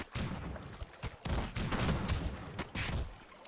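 Heavy booming blasts of cannons in the video game Battle Realms fire in rapid succession, overlapping into a rumbling barrage with brief gaps between volleys.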